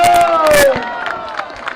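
A crowd at an inauguration ceremony cheers and claps loudly, with a whistle-like tone and shouts over the clapping, then fading into scattered claps and chatter.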